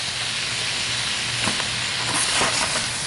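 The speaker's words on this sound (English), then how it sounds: "our steaks are cooking very nicely" Ribeye steaks sizzle steadily in a hot pan, a continuous close hiss with a few small pops and crackles and no talking.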